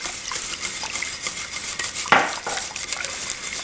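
Spoon stirring flour whitewash into hot liquid in a pot to make gravy for a crockpot pot roast, steady scraping and swishing with a sharp clink against the pot midway.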